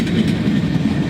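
A freight train rolling past on a railroad headed into Sharonville's yard, a loud continuous low rumble with steady wheel noise and no talk.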